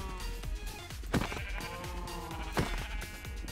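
Sheep bleating in the Minecraft video game, several short wavering bleats overlapping one another at moderate loudness with repeated faint thuds, and nobody talking.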